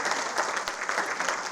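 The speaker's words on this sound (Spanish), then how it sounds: "Vamos a darle un aplauso, señores, a estas 3 estrellas." Audience at a Spanish-language film club screening of Sugar Island breaks into steady applause, a dense wash of clapping at moderate distance, fairly soft and unbroken.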